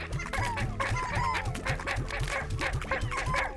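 Rapid, repeated clucking from a hen in the video game Slime Rancher, a loud, busy run of calls that continues without a break and sounds close.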